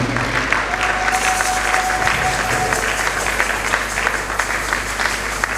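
Church congregation applauding together at a couples' day service, dense steady clapping that fills the whole stretch at a constant loud level, with a faint sustained tone briefly riding above it.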